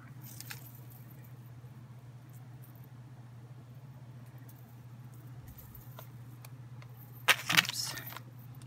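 A chunky chain necklace is folded by hand, giving a brief jangling rattle of metal links near the end, close by, over a low steady hum in an otherwise quiet room.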